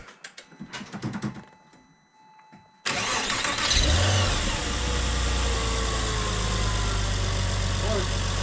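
After some clatter and voices, a Porsche 986 Boxster S engine with no air filter cranks and fires up, then settles into a loud, steady rumbling idle with a raw intake roar.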